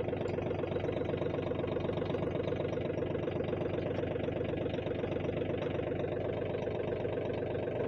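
A Mahindra Oja 2127, a 27 HP tractor, running while reversing: a steady, rhythmic diesel engine chug held at an even idle-like pace throughout, close and continuous, with no voices.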